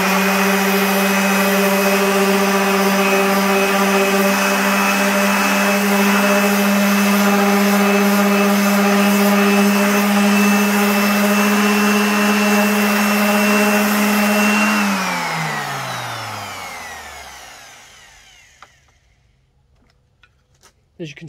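An Erbauer ERO400 random orbital sander run at max speed to strip paint gives a loud, steady motorised whine with a buzzing grind, then spins down and fades away after switch-off.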